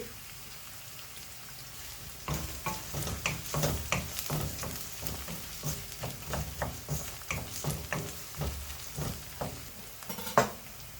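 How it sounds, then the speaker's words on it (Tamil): Chopped garlic sautés in a frying pan for a Tamil vendakkai puli kulambu, soft sizzle under a quick series of spoon scrapes and clinks against the pan, with one louder knock near the end. "கொஞ்சம் பூண்டு கட் பண்ணி போட்டுக்கிறேன் அதுவும் வதங்கட்டும்"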